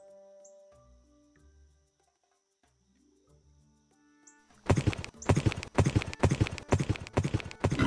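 Hooves of a boar mount trot in the anime MMORPG Hero's Destiny, a steady, loud clip-clop rhythm that starts partway through after quieter game music and chimes, continuing close and prominent to the end.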